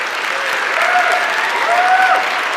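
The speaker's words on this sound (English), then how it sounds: "once again, a big round of applause for Brian Lunduke" Loud, dense audience applause after a talk at a Linux conference, sustained throughout with faint whoops or shouts rising above the clapping.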